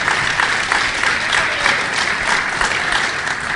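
Audience at a conference demonstrating a 1964 modem breaking into steady, sustained applause, a dense wash of many hands clapping at an even level throughout.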